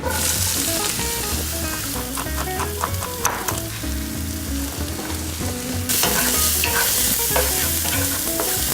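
Onions and garlic sizzle in a hot oiled pan for Filipino menudo, a dense continuous frying hiss with stirring scrapes, close and loud from start to finish, no talking.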